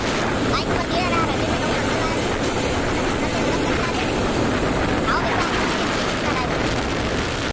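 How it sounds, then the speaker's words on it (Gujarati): A motorbike carrying riders along a village road, with a loud, steady rumble and constant wind buffeting throughout. "બાઇક પર જઈ રહ્યા"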